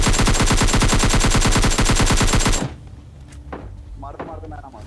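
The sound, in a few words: gunfire in the video game PUBG Mobile Lite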